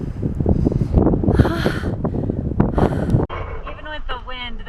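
Gusty outdoor wind buffets the microphone on a hike in Colorado's San Juan mountains, roaring loudly in bursts while someone talks over it.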